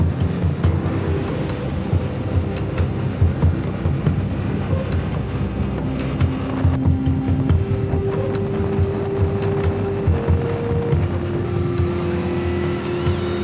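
Motorbike riding out of Pai over a historic bridge on the Mae Hong Son Loop in northern Thailand, with a steady engine drone and rumble, wind buffeting and shifting tones as the bike moves, no talking.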